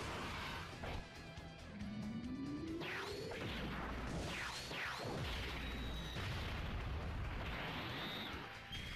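Super attack animation effects for LR Broly in a mobile video game: layered whooshes, rising energy sweeps, crashing impacts and booming blasts that come in dense, loud succession.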